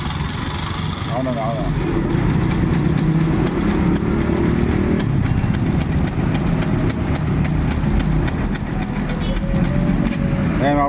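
A motorcycle engine idles with a steady low rumble throughout, loud and close, while someone talks over it.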